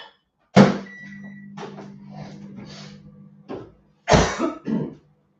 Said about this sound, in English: I'm going to stick this in the